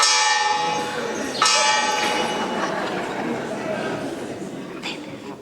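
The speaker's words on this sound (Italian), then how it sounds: "T'intendi questa campana?" A church bell rings out in a stage comedy set in Sardinia, a bright metallic peal with a sharp strike partway through, ringing over steady background chatter and voices.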